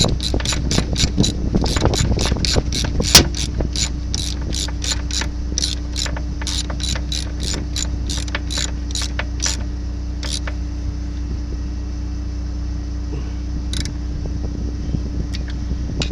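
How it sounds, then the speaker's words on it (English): Ratcheting wrench tightening a bolt while fitting a sharpening stone on a John Deere 8700 forage chopper, a quick series of close clicks in the first ten seconds, then sparse clicks over a steady engine or machine hum. "we'll get this bolt tightened up here"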